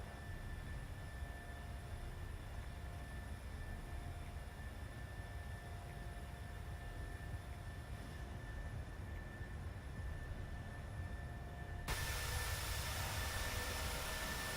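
Jet airliner engines after takeoff from Copenhagen in a multiplayer flight simulator game, a steady low broadband roar with a faint tonal whine, quiet and continuous, brightening abruptly near the end, with no talking.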